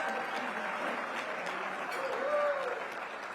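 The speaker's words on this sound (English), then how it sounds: "Give our public servants a round of applause" Applause from guests at a luncheon honoring public servants, a soft, even patter of clapping across a room with a faint tonal sound briefly rising near the end.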